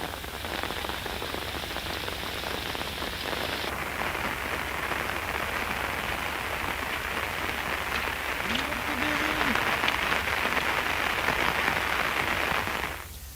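Heavy monsoon rain pours down steadily, a dense, loud hiss of drops drumming on surfaces that continues without a break from start to finish.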